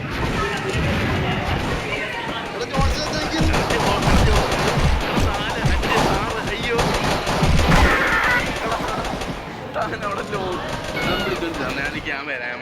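Rapid gunfire and launcher blasts from the game Mini Militia crackle densely and loudly throughout, with overlapping bursts and players talking over the shooting.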